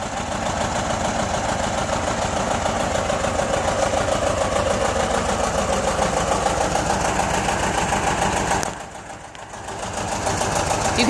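A John Deere 37 sickle bar mower driven by a tractor engine runs steadily for the whole stretch, its loud, even mechanical drone briefly dipping near the end before picking back up.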